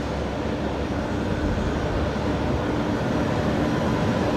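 A Qantas airliner departs runway 19 left at Brisbane Airport at night, its engines a steady, broad roar that holds at the same loudness for the whole stretch, with no talk over it.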